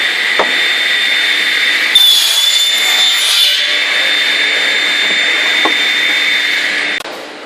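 A power saw runs steadily for about seven seconds with a bright, sustained whine, cutting New Zealand Oregon or pine timber for prenailed house wall frames in a Timaru, NZ frame shop, then cuts off abruptly.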